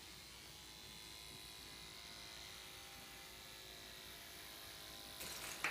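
Electric clippers running steadily while clipping a horse's coat, a constant low buzzing hum held at even volume, with a brief rise in intensity near the end.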